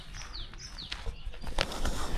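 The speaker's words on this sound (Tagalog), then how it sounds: "Sarap pa din ng tunog ng ibon, no?" Birds call along a wooded hiking trail, with a few clear descending chirps and tweets over faint background noise, moderately distant and not very loud.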